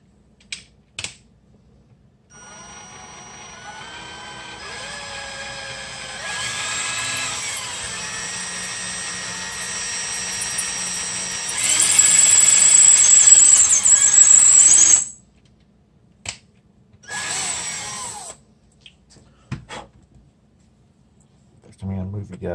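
An electric drill boring a ground hole in a stained bass guitar body, whining steadily for several seconds and rising into a louder, harsher stretch before cutting off, followed by a couple of short bursts and a few clicks.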